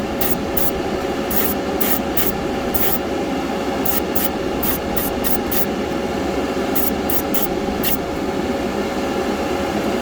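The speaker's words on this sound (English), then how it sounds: "There is your basic airbrushing." An airbrush sprays paint onto an AMT Opel GT model car with a steady hiss and compressor hum, broken by short bursts as the trigger is pressed and released, close and even with no talk.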